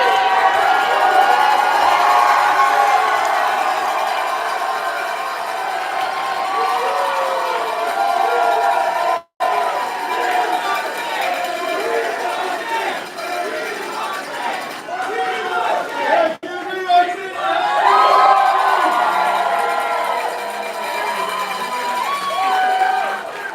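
At a rally for Andrew Yang, a large crowd cheers, shouts and claps loudly and continuously, with a brief drop in the noise before it rises again.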